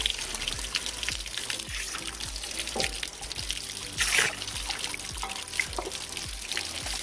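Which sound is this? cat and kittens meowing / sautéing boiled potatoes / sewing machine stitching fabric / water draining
water draining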